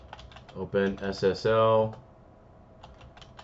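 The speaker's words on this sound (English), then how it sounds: "let's go ahead and type in" Quick light clicks of typing on a computer keyboard, scattered keystrokes before and after a person speaks a short command, the keys faint and close.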